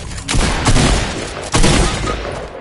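SMG gunfire in a video game rattles out in loud, sustained bursts. A short break in the middle splits two long volleys, all close and dominant with no voices.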